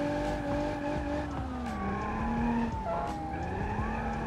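A car in the video game BeamNG.drive, its steering broken, skids with the handbrake pulled. Tires squeal continuously over a droning engine whose pitch bends and wavers as the car slides, sustained and close.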